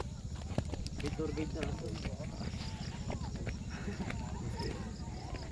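Horse hooves clip-clop in a steady walking rhythm on a path toward the Mt. Bulalo shrine at night, fairly faint, with people talking over them throughout.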